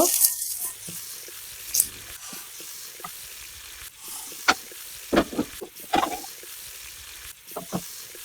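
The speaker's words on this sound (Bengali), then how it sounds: "আমার ফ্রাইং প্যানটা গরম হয়ে গেছে আমি একটু তেল ব্রাশ করে নিব" Oil is brushed onto a hot frying pan while making chicken rolls, producing a soft, steady sizzle broken by short, sharp scrapes and taps of the brush against the pan.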